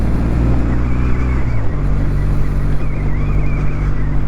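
A 2023 Kawasaki W800 retro motorcycle's engine while riding in third gear around 2000 rpm, a loud steady low throbbing drone with wind rush, pitch shifting slightly midway as the revs change.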